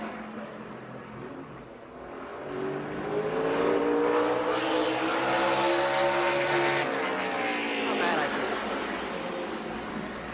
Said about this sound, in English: Last car in qualifying, Ty Gibbs, who's won the last 2 poles at Circuit of the Americas